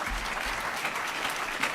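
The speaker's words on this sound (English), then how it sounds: "Come on, John, applaud." Brief, faint patter of audience clapping at a health lecture, a soft steady wash of hands with no voices over it.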